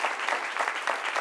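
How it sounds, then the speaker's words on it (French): A French TV talk-show studio audience applauds a guest's arrival with a brisk, continuous patter of many clapping hands, fairly close and loud, with no speech. "Applaudissements pour madame Nel Jamila que nous recevons ici maintenant."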